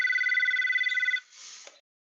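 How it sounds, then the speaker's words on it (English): A telephone bell trills in rapid repeating pulses for about a second, then breaks off into a short, softer ring tail before stopping, close and clear with no talk over it. "And get the phone while you're at it."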